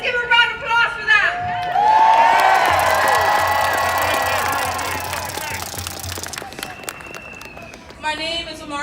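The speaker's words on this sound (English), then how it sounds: "so let's give a round of applause for them." A rally crowd in Chicago breaks into sustained applause, cheering and whoops, loud and close, swelling then slowly fading, with a speaker's voice briefly heard at the start and end.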